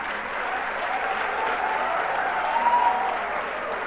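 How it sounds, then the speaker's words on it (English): A large convocation audience applauds graduating university students, a dense, steady wash of clapping heard alone at moderate distance for a few seconds. "offering a round of applause to my graduating students"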